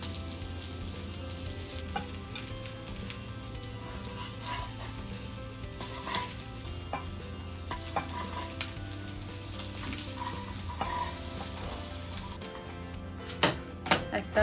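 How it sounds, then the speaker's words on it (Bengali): Egg omelette sizzles steadily in a hot pan, a soft continuous frying crackle with faint stirring and a few sharper clicks near the end. "একটা হয়ে গেছে ডিম ভাজা"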